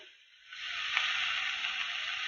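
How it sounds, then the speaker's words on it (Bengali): Garlic and ginger paste hitting hot oil with lightly fried onion in a pan for fish curry, giving a sudden steady bright sizzle that rises after a quiet start and holds close and even. "1 চামচ রসুন বাটা দেবো, 1 চামচ আদা বাটা দেবো।"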